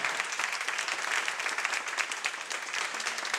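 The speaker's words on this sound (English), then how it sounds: "let's have a big round of applause for Jeanne and Troy" Audience applause at an afternoon talk on the birth of the modern LGBT liberation movement: a steady, dense wash of many hands clapping at even strength for about three seconds, with no voices over it.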